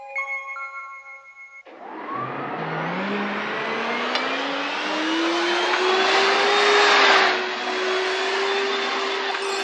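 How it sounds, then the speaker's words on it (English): A vacuum cleaner-like motor whirs up with a rising whine after a short chime, then holds a loud, steady roar. "I'll take you back on my flying vacuum cleaner."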